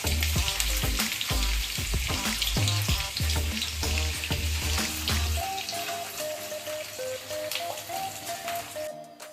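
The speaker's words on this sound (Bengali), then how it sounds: "আর এই পেঁয়াজটা কিন্তু বেশি ভাজা যাবে না খুবই হালকাভাবে ভাজতে হবে" Chopped onions frying in mustard oil in a wok, a steady close sizzle running throughout with brief stirring scrapes, the crackle softening slightly toward the end.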